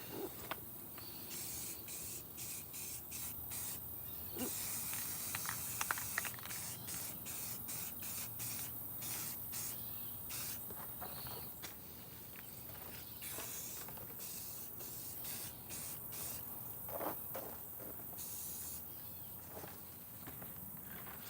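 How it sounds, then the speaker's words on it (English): Clear coat finish sprayed from a can onto laser-cut walnut and cedar wood, a series of close hissing spray bursts of varying length separated by short pauses. "spray this guy. Watch this cedar come alive."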